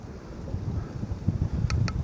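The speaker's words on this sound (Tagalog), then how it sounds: "Mahangin pa." Wind buffets a microphone outdoors at a small farm, producing a low, uneven rumble in gusts that is fairly quiet and without speech.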